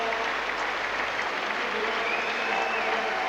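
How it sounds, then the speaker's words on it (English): A big stadium crowd at Mount Smart Stadium applauds and roars after a goal in a 1990 New Zealand–Australia World Cup qualifier, a dense, even wall of clapping and cheering with commentary faintly audible beneath. "The big crowd here at Mount Smart Stadium are loving it."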